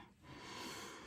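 A bulldog asleep on a couch snores with a steady, breathy rasp that runs faintly and continuously on its own, with no voices over it.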